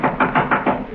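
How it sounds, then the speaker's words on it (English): Five firm knocks on a wooden door, evenly spaced and close, with nothing else heard. "someone knocked at the front door."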